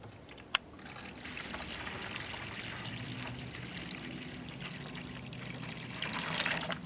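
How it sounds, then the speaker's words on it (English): Water pouring into the pan of a bubbler fountain, a soft continuous trickle and splash heard close up and fairly quiet, with one sharp click near the start and the flow growing a little louder at the end. "So let's fill it up with water."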